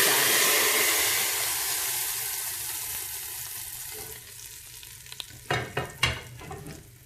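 A tadka of crushed cumin sizzles in hot oil for masoor dal, a loud close hiss that slowly fades, then a few sharp crackles and spits toward the end.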